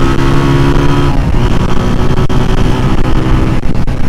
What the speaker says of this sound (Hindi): यानी आज एक होंडा CB150F है और एक YBZ है।